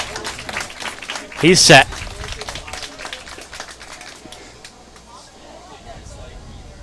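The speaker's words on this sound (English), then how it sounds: "Crowd got me into it, clapping it up." A baseball crowd claps briefly in a short burst during a game, under the broadcast commentary, then settles back into a steady stadium murmur.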